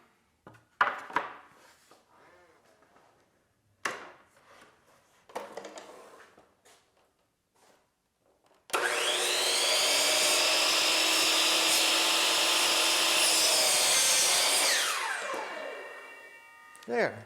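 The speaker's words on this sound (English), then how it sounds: "Now I'll cut this piece." A miter saw cuts through a piece of wood, a loud sustained whine with a harsh rip lasting about six seconds before spinning down, preceded by quieter handling knocks and brief talk.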